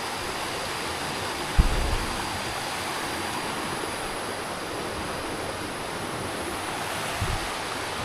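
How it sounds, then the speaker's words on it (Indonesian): Fast-flowing stream coming down from Mount Arjuno, a steady broadband rush of water that stays even throughout, with a couple of brief low thumps near the start and end. "Aliran airnya cukup deras"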